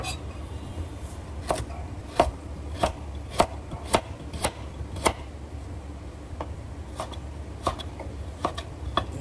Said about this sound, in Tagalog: nasa inyo na kung anong mga gusto nyo slice yung carrots